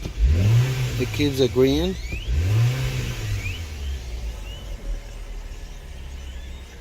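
A 2019 Cadillac XT4 engine revs at wide open throttle during a reduced engine power diagnosis, two sharp rising and falling revs early on, then a low idle rumble, with a person speaking briefly.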